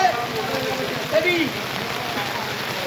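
Rain pattering steadily on a surface in a seasonal Kalbaishakhi storm, heard as a dense even hiss with occasional faint bird-like chirps in the background.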